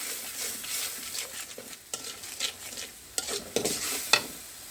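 Masala of ginger-garlic paste and salt frying in a pan for a prawn dish, a soft continuous sizzle broken by scraping stir strokes and a few sharper clicks near the end, close up with no talking.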